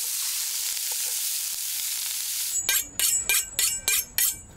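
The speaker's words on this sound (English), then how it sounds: "Adding them to a hot pot and giving a quick sear." Bite-sized meat pieces hitting a hot pot outdoors give a loud, steady hiss of searing, then a run of sharp, rhythmic metallic clinks and scrapes over the sizzle.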